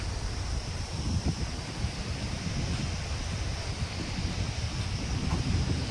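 Kulur river running past Khati village, a steady broadband rush of flowing water with wind-like hiss, continuous and fairly close throughout, with no voices.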